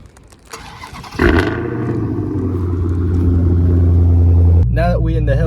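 A Dodge Hellcat engine cranks and fires up with a loud burst, then settles into a deep, steady idle rumble that swells slightly before a voice briefly speaks at the end.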